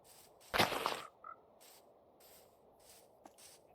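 A frog in the video game Minecraft gives a short, soft croak amid faint game ambience, preceded by a brief louder hissy burst and followed by a few quiet scattered blips.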